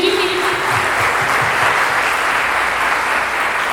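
An audience at a talk event bursts into dense, sustained applause that holds loud and even throughout, with a voice faintly underneath.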